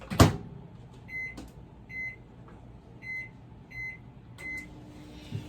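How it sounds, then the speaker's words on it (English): A microwave oven running on medium, power level 5, hums steadily at close range, with a short, faint electronic tone repeating about once a second. "this is going to go into the microwave on medium for about 30 seconds"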